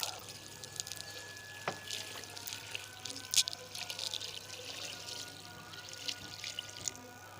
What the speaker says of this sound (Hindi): अब इसमें पानी शामिल करते हैं।